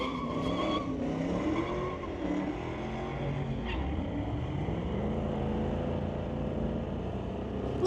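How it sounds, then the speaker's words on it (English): A 1967 El Camino launches at a drag strip with a little tire spin, the tires squealing and the engine roaring steadily at a distance, mixed with track ambience. "Little tire spin to start, and then he got some traction."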